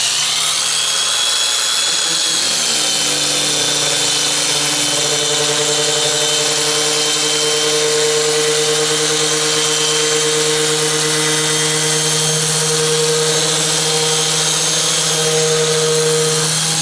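A power tool sands a plastic headlight lens with 500 grit paper, a loud continuous whirring whine that steadies into sustained tones after a brief start, no talking.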